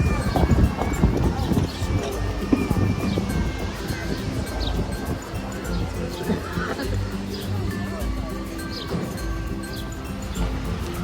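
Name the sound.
horse and carriage clip-clopping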